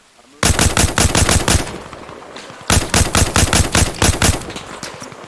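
Machine gun fire in ARMA Reforger, two loud sustained bursts of rapid automatic shots separated by a short pause, close and dominant.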